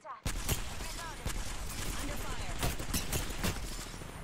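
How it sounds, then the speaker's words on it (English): Gunfire aimed at the player in a video game: rapid, repeated sharp shots crack in irregular bursts, with a voice talking over the shooting. "I'm getting shot at."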